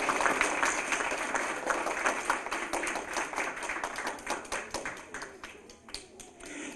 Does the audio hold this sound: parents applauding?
yes